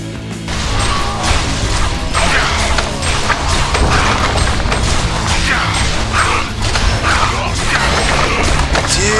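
In a Heroes of Newerth match, a tower is destroyed amid a loud, continuous clatter of smashes, thuds and mechanical crashes, with game voice chatter under the din.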